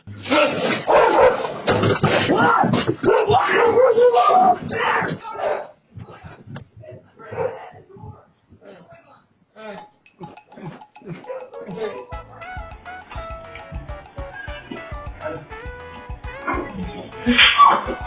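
A dog whimpers and gives short yips and barks amid loud talking voices, with a stretch of quieter vocal sounds in the middle before the noisy voices return.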